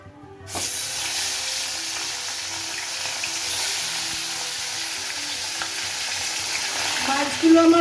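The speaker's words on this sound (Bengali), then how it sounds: "সর্ষের তেলটা গরম করে নিয়েছি নিয়ে আমি মাছগুলো ভেজে নেব" Fish fries in hot mustard oil for a Bankura-style spicy fish curry, a loud, steady crackling sizzle that starts abruptly and keeps going without pause, close to the pan, with no talking.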